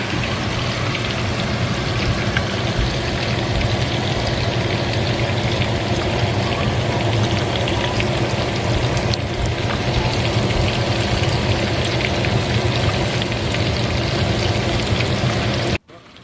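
Breaded keto food frying in a pan of hot oil, a loud, steady sizzle and crackle that holds evenly throughout before cutting off abruptly at the end, with no talking over it.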